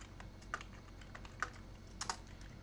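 Keys on a computer keyboard are tapped in short irregular bursts while code is typed, with quiet close clicks and a few sharper keystrokes over low room hum.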